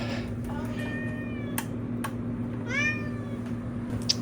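A cat meows twice in a workshop, short rising cries over a steady electrical hum, with a few faint clicks in between.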